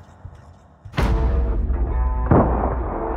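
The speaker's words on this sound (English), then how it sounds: "Gunfire." Gunfire crashes in as a sound effect: a sudden loud blast followed by rumbling, rolling reports and a second sharp burst, dense and booming throughout with no voice over it.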